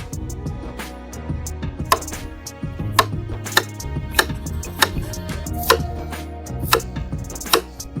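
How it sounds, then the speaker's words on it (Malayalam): A knife chops peeled, washed taro root on a board in a home kitchen, sharp knocks landing at an irregular, steady pace over background music, with no voices. "നമുക്കിനി ഒന്ന് അരിഞ്ഞെടുക്കാം"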